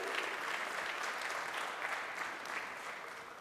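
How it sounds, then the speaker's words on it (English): Audience applause at a Brand Dhule talk in 2023, a steady dense wash of many hands clapping throughout, fairly distant and even in level, with no speech over it. "We must do a lot of clapping for Dhule"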